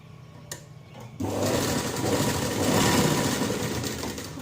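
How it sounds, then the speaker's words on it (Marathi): Close, loud sewing machine stitching a tuck on a katori blouse, kicking in after a brief quiet handling moment and then running as a steady, continuous mechanical whir throughout. "त्यानंतर आता मी इथून शिलाई घेते"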